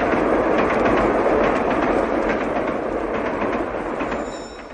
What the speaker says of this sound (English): With stereo, an express train roars through your living room.